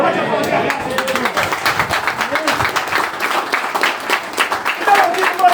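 Applause from a church congregation, dense and steady throughout, with a preacher speaking Portuguese over the clapping.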